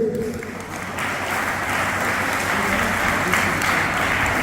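A crowd at an Indian gathering honoring a wrestling academy's coach with a garland breaks into loud, steady applause, dense clapping sustained throughout with a faint voice underneath.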